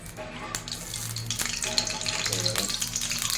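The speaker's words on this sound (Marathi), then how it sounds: "तेल टाकलेलं आहे, तेल गरम झालं." Hot oil crackles and sizzles in a kadhai while masala Maggi is being cooked, with a close, continuous fizzing and a few brief louder pops over about three seconds.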